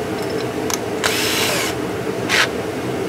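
An electric drill spins a small bit in short bursts over a steady background hum, with a longer whirring run in the middle and a brief final burst, while installing an exhaust system.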